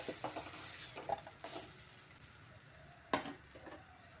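Fried okra, cooked with turmeric and salt, is stirred and scraped in a pan with a utensil, giving soft scraping and light sizzling with a few sharper clatters of metal, close and steady, with no talking.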